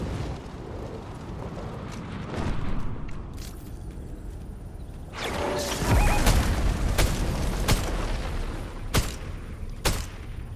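Gunfire in the battle-royale game Fortnite, sharp shots ringing out sporadically over a rumbling background, with a busier cluster of cracks in the second half and a few isolated loud reports near the end.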